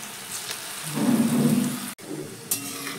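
Semolina and onion pakoras sizzle in hot oil with a dense, steady crackle that swells as they go in, then breaks off briefly before the frying resumes more softly.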